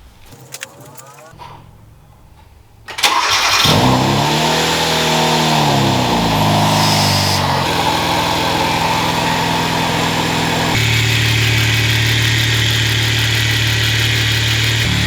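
A Hyundai Veloster Turbo engine cranks and fires after a quiet moment, rises to a loud rev, then settles into a steady close idle that shifts in tone partway through.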